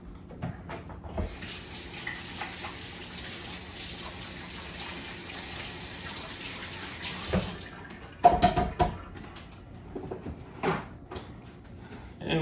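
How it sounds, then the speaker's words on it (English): Running tap water streams steadily at a kitchen sink while hands are washed, a soft continuous hiss followed by splashes and a few clunks near the end. "First thing we're going to do is wash our hands."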